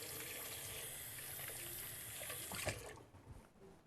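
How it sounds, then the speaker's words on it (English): Tap water gushes steadily into a kitchen sink as hands are washed, a continuous close hiss that breaks off near the end, followed by a few clunks and splashes. "Let me wash my hands."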